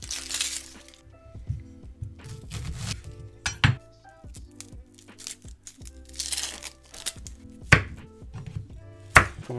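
Shallots being peeled and chopped with a knife on a board, irregular bursts of close knife taps and thuds mixed with crinkling peel and the clink of utensils, no voices.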